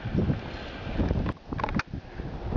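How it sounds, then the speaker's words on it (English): Cold wind gusts outdoors at the onset of a Chicago blizzard, a steady roar of wind noise buffeting the microphone with brief lulls, no talking. "It is so cold and windy out right now."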